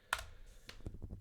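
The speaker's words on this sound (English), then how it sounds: "Oh my gosh, I cannot type today." A few light clicks of typing on a computer keyboard, quiet and close, in a short burst of irregular keystrokes.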